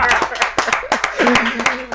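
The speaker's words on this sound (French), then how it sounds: "Applaudissez pour lui." Scattered hand clapping from a small crowd, uneven claps mixed with murmuring voices.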